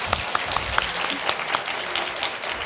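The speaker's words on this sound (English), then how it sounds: "I would like all of you to give a big clap for yourself" A TEDx audience claps for itself, a loud, continuous wash of applause with sharp individual claps standing out near the front.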